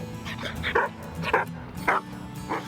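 Puppies bark and yip in quick, high-pitched bursts, about five in a row, close and fairly loud.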